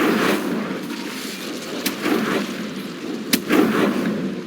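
Spell blasts in the video game Hogwarts Legacy crackle and thump in bursts, with two sharp impacts amid a rolling, rushing magical roar.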